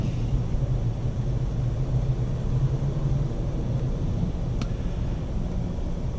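A 2018-2020 Mazda 6 Grand Touring Reserve on a test drive, a steady low cabin rumble of engine and road noise at constant level with no talking.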